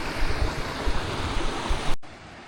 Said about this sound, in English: that's all the water going down to feed the lake from the mountain